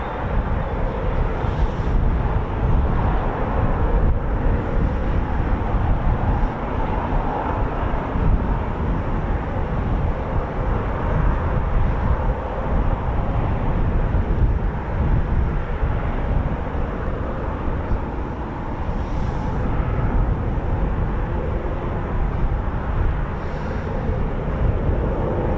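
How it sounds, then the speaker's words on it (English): Eurofighter Typhoon FGR4 jet engines spool somewhere on an RAF base, a steady distant low roar and rumble that holds throughout with wind buffeting the microphone and no talk. "So we've got Typhoons spooling somewhere on the base."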